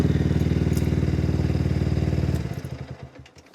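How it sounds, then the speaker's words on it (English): A Yamaha YZF 125R motorcycle engine idles close by with a steady, even thumping pulse for over two seconds, then shuts off, the beat slowing and sputtering into silence. "We know the engine's running now, so we know the bike's running"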